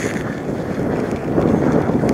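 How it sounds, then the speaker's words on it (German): Steady wind blustering across the microphone beside the Hennesee reservoir in Sauerland, a broad continuous rush that swells slightly louder toward the end, with no talking. "Jetzt wird es gerade wieder ein bisschen windiger hier."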